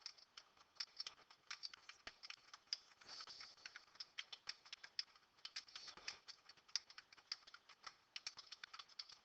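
Rapid, irregular button taps on a calculator keypad as data is entered, a dense run of small close clicks with brief pauses, no talking.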